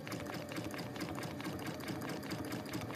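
A sewing machine stitches a reverse appliqué piece in a steady, rapid, continuous run, close and alone.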